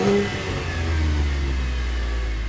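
A 2018 Chevrolet Traverse LT with a 3.6-liter V6 pulls away under acceleration, a steady mid-pitched engine drone rising slightly as it builds, heard from inside the cabin with no talking.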